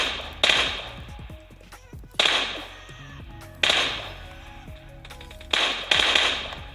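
Gunfire in the mobile shooter PUBG Mobile: several loud, sharp single shots spaced about a second or more apart, each trailing off in a short echoing decay, with no talking.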